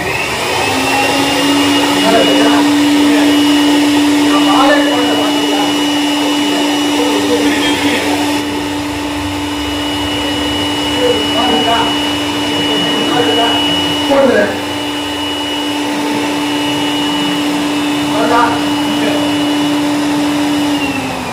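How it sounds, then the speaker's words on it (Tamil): A blower machine used in a low-cost physics demonstration runs with a steady, loud whine and hum throughout, while water is added and splashes faintly; voices talk intermittently over the continuous machine drone. "இப்ப சொல்லுங்க, ப்ளோயரா சக்கிங்கா? ப்ளோயர் தான்."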